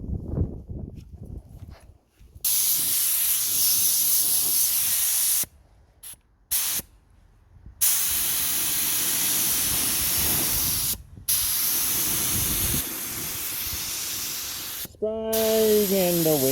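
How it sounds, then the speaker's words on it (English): Repeated bursts of aerosol spray paint hissing loudly outdoors in the wind, separated by short pauses, with some low handling noises and a brief voice near the end. "Spraying in the wind, I'm spraying in the wind."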